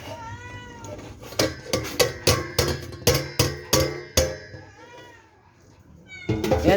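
Several hungry cats meowing at feeding time, a rapid string of loud, close, repeated meows with metal plate clinks, then a quieter pause before more cries; a person talks underneath.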